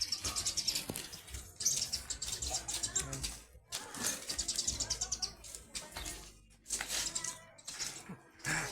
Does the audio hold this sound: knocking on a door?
no